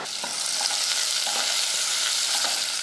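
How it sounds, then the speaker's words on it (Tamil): Small shallots sizzling in hot oil with mustard seeds, dried red chillies and curry leaves for a rasam tempering, a steady bright frying hiss with occasional stirring scrapes, close up and with no talk. "அடுத்ததாக கொஞ்சமாக சின்ன வெங்காயம் போட்டு நல்லா வதக்கிக்கலாம்"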